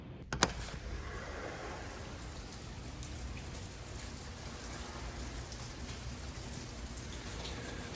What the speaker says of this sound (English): Rain started